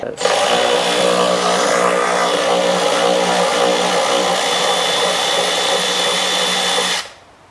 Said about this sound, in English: I'm just gonna grab my power ratchet because I'm in a hurry.